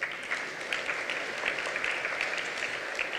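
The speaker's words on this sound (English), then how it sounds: "You can give a round of applause for that." An audience at a school charity event applauds steadily, a dense wash of many hands clapping at moderate distance, fairly soft and even throughout.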